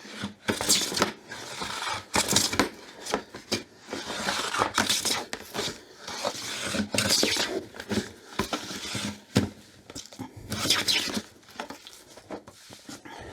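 Hand plane strokes shaving an old wooden drawer front while preparing a reference face and edge, a run of repeated rasping passes, close and fairly loud, with short pauses between strokes.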